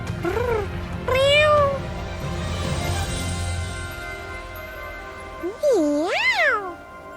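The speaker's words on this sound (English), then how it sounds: "Now for this beautiful little cat." A small cat in a video game meows a few times, two short cries early, then a louder rising and falling meow near the end, close and clear over soft background music.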